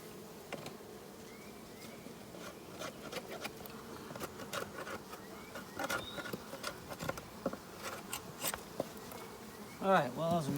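A honeybee colony buzzes continuously during an inspection of a swarm colony hive, a dense, moderate hum with individual bees passing close, and a brief louder scrape near the end.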